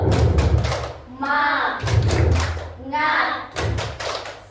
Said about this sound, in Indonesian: Mari kita lakukan ice breaking tepuk semangat